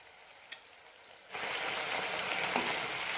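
Shallot curry with jaggery bubbles in a pan on the stove. A steady, close sizzling and bubbling hiss starts abruptly after a quiet moment and carries on evenly.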